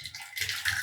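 Sweet corn ragi soup poured from a pot into a bowl, a short liquid splashing and trickling sound that builds and continues briefly, close up and alone.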